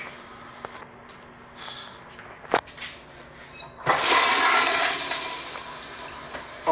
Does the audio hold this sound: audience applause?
no